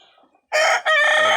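On a farm raising tiger chickens, a few faint clucks come first, then a rooster nearby gives a loud, drawn-out crow in two strong phrases.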